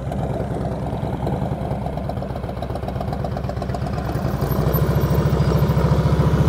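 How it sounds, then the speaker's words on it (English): A motorcycle engine idles at low RPM with a steady, loud, close low-pitched chugging throb that rises slightly near the end, heard alone. "Your engine's going glug, glug, glug, glug."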